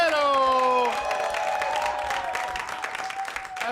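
Comedy club audience applauding and cheering at the end of a stand-up set, a dense round of clapping with a whoop, under a sustained tonal sound that slides down at the start.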